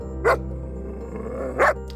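A person imitates a dog's growl for a blink dog, two short rough vocal bursts spaced apart over a low steady hum.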